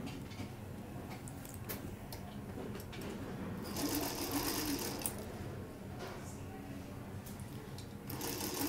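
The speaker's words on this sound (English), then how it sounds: "So I'm gonna just sew my blocks together real quick." Sewing machine stitching quilt blocks together, a steady mechanical whir running throughout at moderate loudness, swelling slightly midway, with faint rhythmic ticking from the mechanism.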